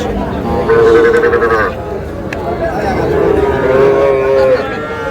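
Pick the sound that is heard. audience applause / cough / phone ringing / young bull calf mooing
young bull calf mooing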